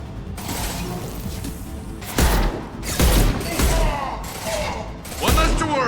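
Gunfire in the video game Mass Effect 2 rings out as several heavy, booming shots spaced a second or so apart, each with a metallic mechanical tail, over a steady low background hum of game ambience.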